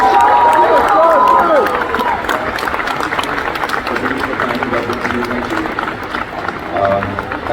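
An audience at a summit cheers and applauds, a dense wash of clapping and crowd noise with someone speaking over it, loudest at the start and easing off after.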